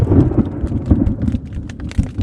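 Thunder rumbles through a Florida storm, a loud low rolling boom with rain and scattered knocks and crackles, no voices heard.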